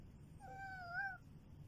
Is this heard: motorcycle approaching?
no